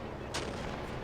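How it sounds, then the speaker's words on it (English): Mortars fire in a WWII battle scene from 1944: a single faint, distant thump bursts briefly out of a low, steady background rumble. "you can hear the mortars firing now"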